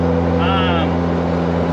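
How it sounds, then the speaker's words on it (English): A drift car's engine drones loud and steady with a raspy exhaust note during a street test drive, heard from inside the cabin as a constant low rumble with a brief rising whine. "The exhaust is a little raspy, but that's just what happens."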